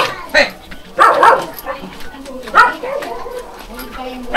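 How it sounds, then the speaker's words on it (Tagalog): Dog barking in a Philippine neighborhood, several sharp separate barks and yips spread across the stretch, fairly close and loud, with a person talking in between. "Ay, may aso."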